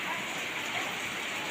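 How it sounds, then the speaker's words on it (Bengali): Rain falling steadily outdoors after the wind has eased, a soft continuous hiss of drops at low, even loudness with no pauses. "এখন একটু বাতাসটা কমেছে, বৃষ্টি হচ্ছে।"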